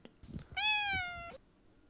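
A cat gives a single clear, drawn-out meow near a countryside grill, preceded by brief faint sounds and with no talking.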